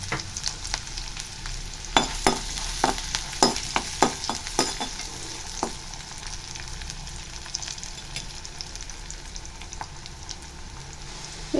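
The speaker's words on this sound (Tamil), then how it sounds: "அடுத்தது பொடியாக கட் பண்ண வெங்காயம் ஆட் பண்ணிக்கலாம்." Finely chopped onions sizzle in hot oil with star anise, cinnamon and cloves for a chicken gravy, with a spoon scraping and stirring in quick clustered strokes over a soft steady frying hiss and no talking.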